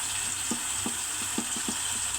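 Onion and garlic paste frying in mustard oil, a steady bright sizzle with a series of soft, evenly spaced stirring knocks from a spoon against the pan, close by and with no talking.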